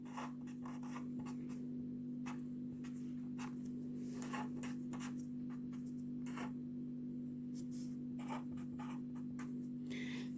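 Pen scratching on paper while writing down radii measured with a scale, a run of soft, irregular strokes close by under a steady low hum.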